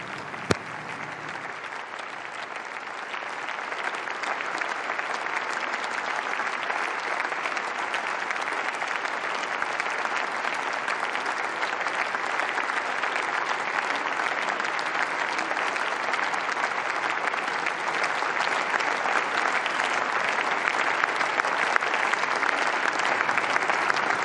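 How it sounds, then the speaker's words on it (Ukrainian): Sustained standing ovation for Zelensky in the German Bundestag, a dense, steady wash of applause from a large parliamentary audience lasting throughout, loud and unbroken with no talk over it. "Зараз бачимо, як Зеленському стоячи аплодують в Бундестазі оплески."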